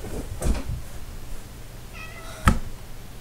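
A house cat gives two short meows a couple of seconds apart, fairly close but soft, against a quiet indoor background.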